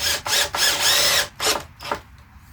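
A power drill drives screws into wooden shelves in several short whirring bursts separated by brief pauses, close and fairly loud, with no talking.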